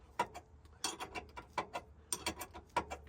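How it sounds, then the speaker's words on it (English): A wrench turns the lock nut on a Roadster tow bar, giving a quiet series of evenly spaced metallic ratcheting clicks, close and alone with no talking. "So just take the lock nut off."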